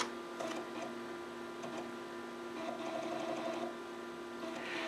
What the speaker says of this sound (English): you heard the drive head jitter a little bit there because Pahntom I was trying to do some write operations to the disk there